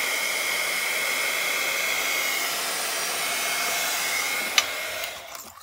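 Heat embossing tool blows continuously on magazine collage art, a loud steady airy whir with a faint tone, ending with a small click as it shuts off.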